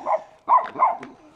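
A small dog gives three short, close barks in quick succession, with a faint yip trailing after.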